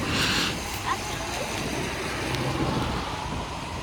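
Steady rain falls with a constant hiss and light splashes, soft and diffuse throughout.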